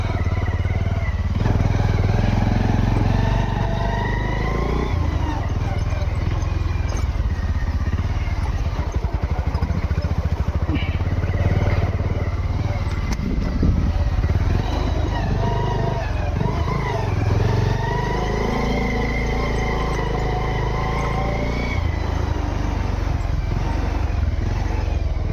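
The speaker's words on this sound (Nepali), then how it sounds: "अब यहाँबाट बाइकहरू चाहिँ यताबाट हिँड्ने" Motorcycles ride past on a route beside a river near the Panchakanya temple in Sindhuli, giving a steady, loud engine drone with rattling that holds for the whole stretch and almost no talk.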